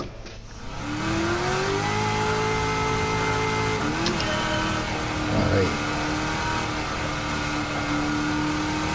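A C4 ZR1 Corvette with an aftermarket exhaust accelerates hard, its engine note climbing steadily in pitch, breaking at a gear change, then rising again, loud and close throughout.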